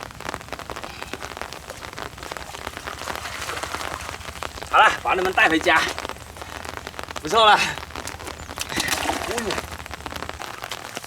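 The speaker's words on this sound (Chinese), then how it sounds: "这个天又开始下雨了" Rain falls steadily outdoors beside a small drained pond, a continuous close patter on surfaces, while someone talks over it in short bursts.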